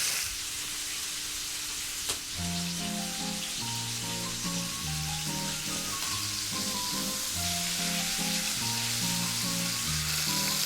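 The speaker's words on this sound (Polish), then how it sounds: "Na własnym, na własnym tłuszczu się to smaży." Duck sizzles and spits steadily in its own fat in a pan, a continuous crackle running under background music.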